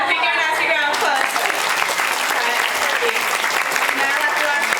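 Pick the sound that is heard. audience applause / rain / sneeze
audience applause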